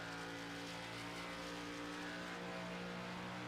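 Race cars in an Xfinity Series NASCAR racing video game at Texas drone and accelerate together, a steady dense engine roar without a break, heard at a moderate distance.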